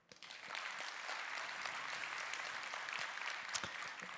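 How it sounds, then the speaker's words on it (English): Conference audience at a 2021 congress clapping loudly in a dense, steady wave of applause that fills the room, with a few sharper claps standing out near the end. "So if you trust Amazon the most, clap really loudly now."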